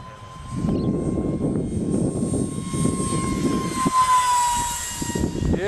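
An RC jet powered by an AEO 8-blade 40mm electric ducted fan flies past with a loud, steady high-pitched whine that holds throughout, over a rough airy rush.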